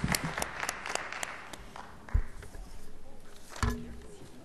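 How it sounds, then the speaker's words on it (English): Scattered audience clapping at a school district board meeting, applauding choir singers; fairly faint and uneven, with a few sharp louder claps and thumps standing out from a thin, irregular patter. "Let's give our choir singers one more round of applause."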